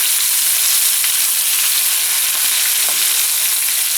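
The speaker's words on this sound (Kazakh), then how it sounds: "Мен кішкентай қызыл пиязым бар еді, соны астына қуырып жібердім." A small red onion fries in a pot for a ground-meat-ball dish, giving a steady, dense crackling sizzle that holds even and close throughout, with no voices.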